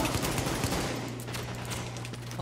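Sustained automatic rifle fire from a Scar H in the video game The Division, a dense rattling burst of rapid shots that runs continuously, loud and close, with no talking over it.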